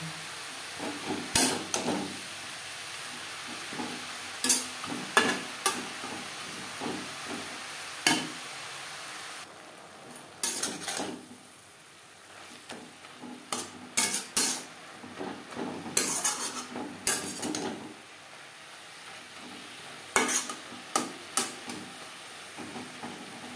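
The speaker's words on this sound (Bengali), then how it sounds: "তিন 4 মিনিট নাড়াচাড়া করে নেওয়ার পর" Jute leaves (note shak) frying in a pan are stirred with a spatula, giving irregular metallic scrapes and clanks over a soft, steady sizzle, close by.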